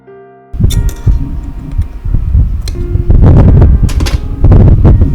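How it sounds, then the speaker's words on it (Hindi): Sewing machine stitching along the very edge of a kameez, starting with a whirring motor that runs continuously with a rapid mechanical chatter, close and loud, with brief clicks and small changes in speed. "इसके इस एंड पे हम अपनी स्टिचिंग कर लेंगे, बिल्कुल किनारे पे।"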